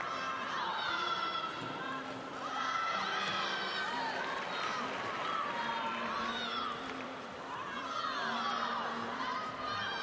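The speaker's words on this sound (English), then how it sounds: "Crowd's really cheering her on" An arena crowd at the 2022 European Championships in Munich cheers on a gymnast, Naomi Visser, during the uneven bars final, a continuous swell of shouts and whistles that rises and dips over ten seconds.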